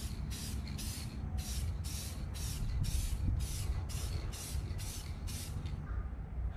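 Spray paint goes onto the back of a 75-gallon saltwater aquarium in a steady series of about ten short, loud hissing bursts. The bursts come in an even rhythm, each separated by a brief gap.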